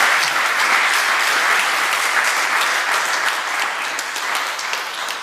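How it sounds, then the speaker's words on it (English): Sustained applause from a conference audience at a Swiss blockchain community panel event, a dense, steady wash of clapping that holds evenly for several seconds before tapering slightly at the end. "Give some round of applause to the panel at this point."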